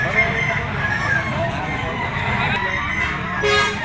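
A red Kelso yellow-legged rooster crows at an auction market, a drawn-out cock-a-doodle-doo rising over crowd chatter and background noise, with someone talking nearby.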